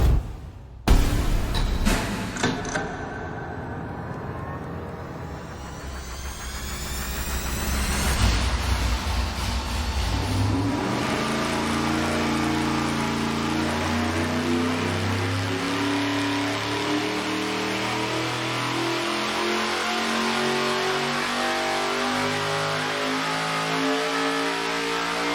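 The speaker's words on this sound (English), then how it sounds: "Let's roll this thing into the dyno and see what kind of power it makes." A boosted engine fitted with AsCast 195 cylinder heads revs hard on a dyno, climbing from a low rumble into a loud, sustained high-rpm roar that holds steady, with no talking.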